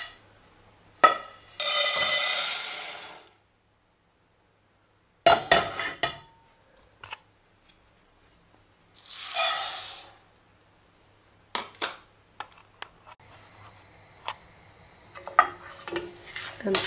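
Roasting dal and other ingredients stirred continuously in a pan, heard as intermittent bursts of spoon scraping and clinks against the metal, separated by quiet gaps, with a light sizzle.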